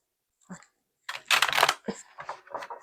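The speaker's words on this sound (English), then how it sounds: "I can't shuffle these cards." A deck of cards being shuffled up close, with a brief riffle followed by bursts of rapid crisp flutters and snaps, a voice faintly mixed in.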